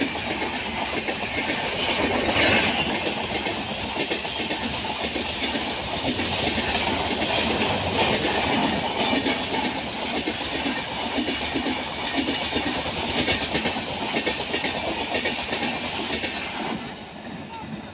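A passenger train pulls into a station in rural Odisha with a loud, continuous rumble and clickety-clack of wheels on rails, close and steady throughout, with people faintly talking underneath.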